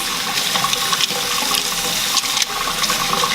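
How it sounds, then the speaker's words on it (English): Water running steadily from a tap while makeup brushes are rinsed, a loud close hissing splash that continues without a break, with small splashy bursts as the brushes move. "So what I'm doing is just rinsing the brushes"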